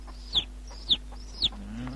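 Chicks chirp in a film scene, three short high-pitched peeps spaced about half a second apart, close and clear over a low steady hum.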